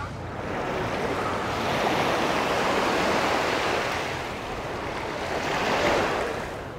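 Ocean waves rolling onto a sandy beach shore at Labadee, Haiti, a steady roar of surf swelling and easing, close and loud, no voices.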